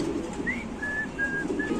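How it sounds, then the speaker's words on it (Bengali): Soft calls of fancy breed pigeons at a pigeon market, with a few thin, drawn-out whistling notes over a murmuring background. "এটা ওপাল বার কবুতর"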